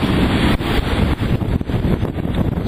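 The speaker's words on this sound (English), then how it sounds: "They've got quite a big following sea, swell of 3 metres plus, winds of over 20 knots" Steady wind over 20 knots roars across the microphone with the wash and slap of a 3-metre following sea underneath, a continuous loud rush without any talking.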